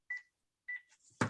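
Telephone keypad tones beep in short bursts during a municipal finance and planning meeting, two clear tones with brief gaps and quieter blips, ending in a sudden loud broadband burst like a handset clatter.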